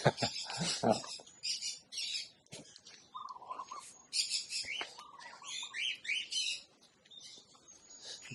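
Cockatiels and ringneck parakeets in an aviary in Thailand call and chirp close by, sharp repeated tweets and squawks in irregular bursts with brief quiet gaps.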